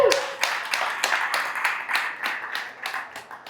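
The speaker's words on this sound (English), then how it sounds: "clap it up for the other comedians y'all have seen tonight" Audience at a stand-up comedy show clapping for the comedians, a steady wash of overlapping handclaps that gradually thins out over a few seconds.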